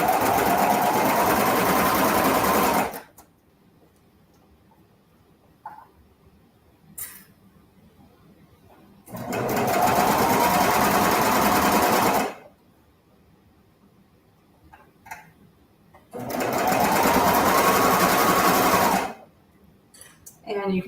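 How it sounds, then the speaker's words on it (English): A sewing machine stitches through layers of a ruffled skirt in three loud, fast-whirring bursts of about three seconds each, separated by quiet pauses with faint handling clicks. "I'm just sort of inching my way around, sewing the layers"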